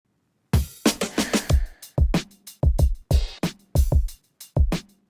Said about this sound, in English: the full drum roll will sound like this